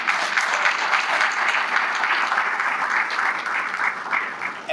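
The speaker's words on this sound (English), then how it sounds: "Round of applause for that." Steady audience applause fills a scholarship gala hall, a dense continuous wash of many hands clapping at even strength throughout, with no voices standing out.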